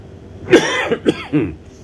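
Three short, harsh bursts of coughing and throat clearing close to the mic, with brief pauses between them and quiet otherwise.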